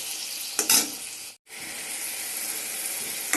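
Small fish curry sizzles in a pan with just a little water added: a steady, close frying hiss with a brief stirring flare near the start and a momentary silent break midway.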